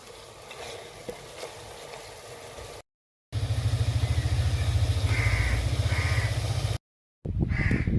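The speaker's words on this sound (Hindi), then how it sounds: "और अच्छे से हम भून लेंगे मसालों को" Spices and chicken fry in a pan with a steady, loud sizzle that breaks off twice and returns, preceded by a quieter stretch of faint kitchen noise.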